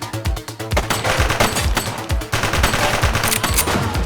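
Rapid, loud gunfire in the police video game The Precinct, with close bursts of shots cracking in quick rhythmic succession throughout.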